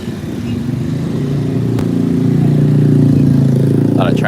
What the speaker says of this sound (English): A lot of traffic here.